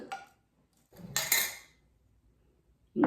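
A spoon scrapes and clinks against a metal ladle while peanuts and tomatoes are mixed, in three short separate bursts with silence between them, close up and without talking.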